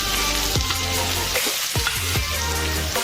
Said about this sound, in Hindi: प्याज को हम थोड़ा गोल्डन ब्राउन होने तक भूनेंगे